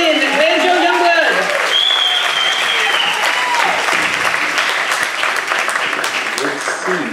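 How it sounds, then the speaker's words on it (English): An audience at a vaudeville show applauds with loud, sustained clapping that keeps going throughout, with a few cheers rising over it. "Another round of applause for Andy Bananian and Banjo Youngblood."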